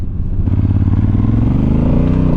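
Honda Africa Twin Adventure Sports DCT motorcycle engine pulling steadily under load, a continuous deep rumbling drone that holds loud and close for the whole stretch, pitch rising slightly toward the end.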